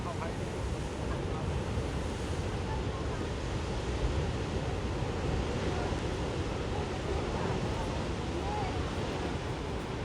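Ocean surf rolls in steadily at Broken Beach in Bali, a continuous broad wash of waves mixed with gusty wind buffeting the microphone, loud and unbroken for the whole stretch.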